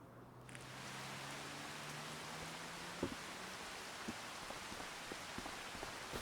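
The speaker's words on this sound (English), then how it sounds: "Now it's still raining." Steady rain in the video game Farming Simulator 25 falls evenly, a soft hissing wash with a few distinct drops tapping now and then; a low hum fades early on.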